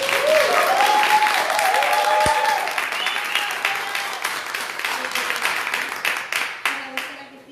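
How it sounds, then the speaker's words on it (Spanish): Steady applause from a crowd, dense clapping that fades gradually toward the end with a few scattered final claps. "vamos a dar un aplauso a Cristina."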